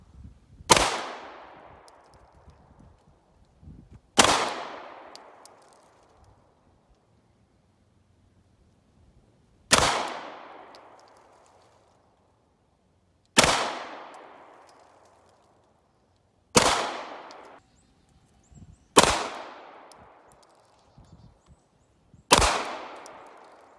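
Seven loud 9mm pistol shots from a Glock 17 and Beretta 92, fired at an outdoor silhouette target about 10 yards away, each a sharp crack with a decaying ring, spaced a few seconds apart.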